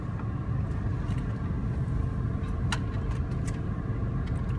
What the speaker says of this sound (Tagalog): Traffic pa din.